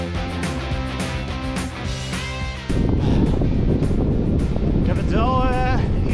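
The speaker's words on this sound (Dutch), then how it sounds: "Het is best wel mistig en toch waait het hier gewoon hard." Strong wind gusting against a cyclist on a foggy ride across the Netherlands; a loud, continuous rumbling wind buffet that intensifies partway through.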